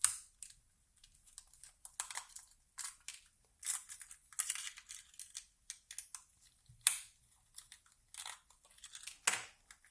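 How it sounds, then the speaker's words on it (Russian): Three tiny screws are turned out of the plastic back cover of a 433 MHz four-channel remote control. Sharp, quiet clicks and scratchy ticks come close-up in irregular clusters, with near silence between them. "Вот, откручиваем 3 шурупчика."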